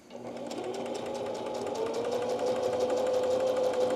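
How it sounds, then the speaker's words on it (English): A sewing machine runs a straight seam through fabric, starting up and settling into a steady, close, whirring hum that continues throughout. "We're lowering the presser foot and sewing."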